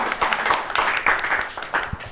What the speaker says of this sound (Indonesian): tepuk tangan untuk mereka semua karyawan-karyawati